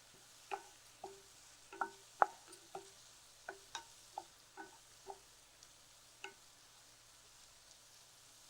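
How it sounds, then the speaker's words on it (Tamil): Green chillies and garlic sautéing in a pan for a methi chutney, heard as a quiet, faint sizzle with a string of sharp stirring taps and clinks spread irregularly across the clip, no voices. "இன்னும் கொஞ்சம் நல்லா வதங்கணும்"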